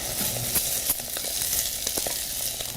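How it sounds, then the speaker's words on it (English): Rice fries in a hot pan of oil for an Afghan polow, giving a loud, steady sizzle with scattered crackles and soft scraping stirs. No one speaks over it. "now you want to just fry the rice till it's get really dry"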